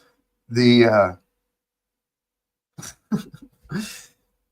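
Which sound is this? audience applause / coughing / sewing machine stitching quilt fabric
coughing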